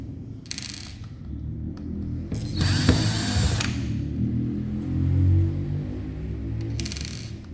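Screws being undone on a Bosch water dispenser, with several short whirring bursts of a driver tool over a constant low hum, the loudest run lasting about a second, with no talk.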